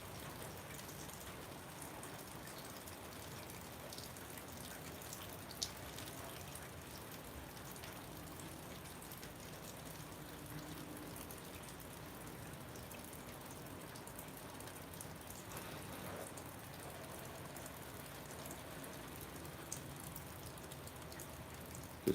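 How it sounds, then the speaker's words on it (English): Steady, soft rainfall patters on surfaces all around, a continuous even hiss with occasional faint drips, quiet and distant, with no voices. "Just love that sound of rain."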